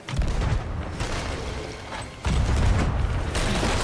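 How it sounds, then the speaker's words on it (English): Ship cannons boom in the pirate video game Sea of Thieves, heavy low blasts in two loud bursts with rumbling, mechanical clatter between them. "Oh my god, they are shooting back."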